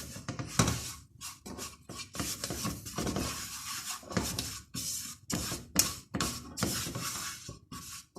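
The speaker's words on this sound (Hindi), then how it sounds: "अब इसको फ़ौरन चलाते जाएंगे कि मैदे को भूनेंगे" Flour being stirred and roasted in a pan for chicken lasagna, a utensil scraping and rasping steadily against the metal in repeated strokes, close and fairly loud with no talk.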